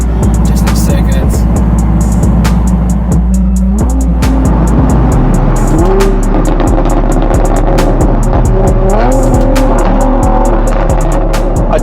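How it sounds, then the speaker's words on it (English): A Lamborghini Reventón sweeps past loud and close, its V12 engine roaring as it downshifts with stepped rises and drops in pitch, ending in a dense, sustained snarl. "It's crazy that when you came past us and you did a little downshift."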